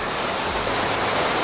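Steady, dense rain falling outside a house, a continuous close hiss of drops with no pauses and no voices.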